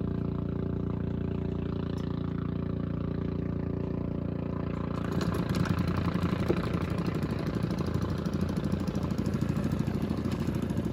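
A small fishing boat's engine runs steadily, a continuous low chugging drone that grows rougher and louder partway through, with no voices.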